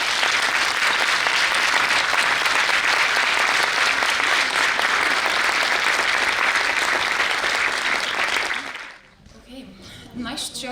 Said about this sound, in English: So I'd like to ask you to give these women a round of applause.